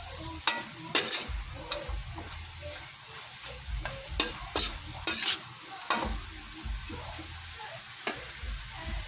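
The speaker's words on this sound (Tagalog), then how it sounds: "Haluin natin para mag-mix." A spatula scrapes and clatters in a pan as fried tofu is stirred over a sizzle, with irregular sharp knocks over a steady frying hiss.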